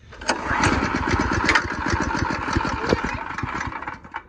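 A small go-kart engine sputters and chugs briefly after a pull-start, running rough and uneven for a few seconds before dying down, close by.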